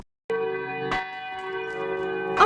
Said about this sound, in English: that's the alarm bell